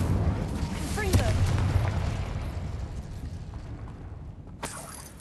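Confringo blast spells cast in the Hogwarts Legacy video game, with booming explosive bursts over dense game effects and a sharp fresh burst near the end.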